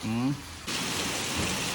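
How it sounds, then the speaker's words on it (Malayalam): After a brief voice, a dense, steady hiss of heavy rain pours down and fills the rest of the moment. "നല്ല മഴ"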